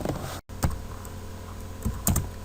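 Keys on a computer keyboard are tapped in a short, close burst of typing, with a few sharper key clicks standing out over a quiet room hum and no speech.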